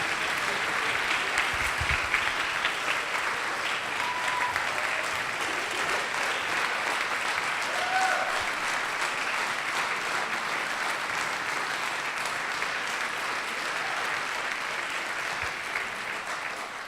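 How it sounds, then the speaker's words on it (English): A large concert audience applauds a wind ensemble steadily for the whole stretch, a dense, even wash of clapping with no speech over it. "but I'm glad you clapped anyway"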